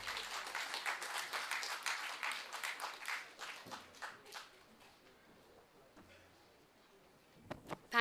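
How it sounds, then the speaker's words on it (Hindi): A seminar audience on cyber crime against women bursts into dense, sustained clapping for several seconds, then the applause thins and fades into a quiet room with a few scattered sounds. "जोरदार तालियां"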